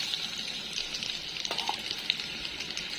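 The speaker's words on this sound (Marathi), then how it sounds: "असं उतू आल्यागत होतं लसूण टाकल्या टाकल्या" Chopped garlic sizzles and bubbles up in hot oil with a quiet, steady fizzing hiss and a few small pops, heard up close for a few seconds with no talk.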